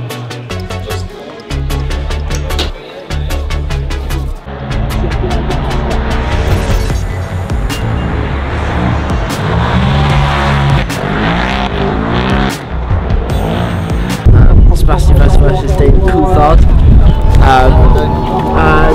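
Race cars at the Race of Champions event, engines revving and roaring loudly with tire squeal and skidding, a dense continuous motorsport din with crowd and announcer-like voices mixed in, rising louder toward the end.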